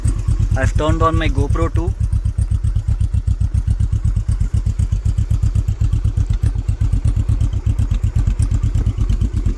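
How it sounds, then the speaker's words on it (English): A Royal Enfield Himalayan with an 822cc parallel twin engine idles steadily with an even, thumping beat throughout, with someone talking briefly near the start. "This is how the bike sounds at idling."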